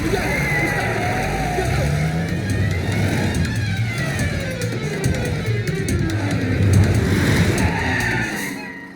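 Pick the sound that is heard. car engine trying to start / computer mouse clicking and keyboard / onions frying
car engine trying to start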